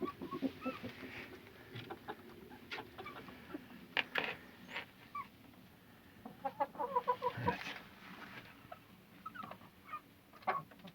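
Hens cluck on and off in a backyard hobby garden, with short bursts of clucking close by and quieter bird sounds in the background.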